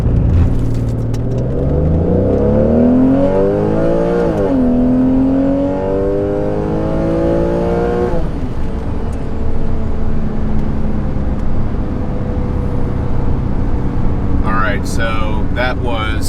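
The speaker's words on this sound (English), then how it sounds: "We are in manual mode, starting in first gear." A car with traction control off and air conditioning off launches hard from standstill in first gear in manual mode. The engine note climbs steeply through two upshifts, then settles into a steady drone, with a voice briefly near the end.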